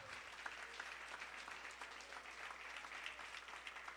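A church congregation applauds together, a steady, even wash of many hands clapping at moderate distance, sustained throughout with no voices standing out.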